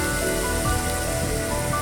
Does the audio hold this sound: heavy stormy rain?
yes